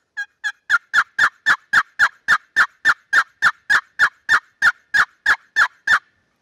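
Wooden box call worked to imitate a turkey hen, producing a long, steady series of about twenty evenly spaced, loud, raspy yelps, close and clear with no talking.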